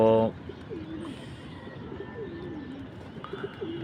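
Pigeons cooing in a home loft in the morning, soft rolling coos recurring at moderate distance after a brief loud voice at the very start.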